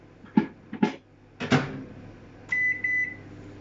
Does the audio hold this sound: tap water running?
no